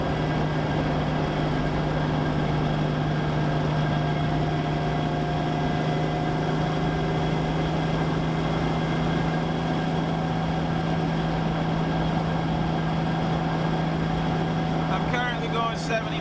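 Lexus GS 300 engine running at 3,200 RPM while cruising at 75: a steady droning hum with constant road and cabin noise filling the car, while a person talks over it.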